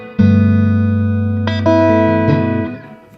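Sustained chords on an out-of-tune 1974 Fender Telecaster ring out with slightly sour, detuned harmonics, a few strums layered over each other before fading.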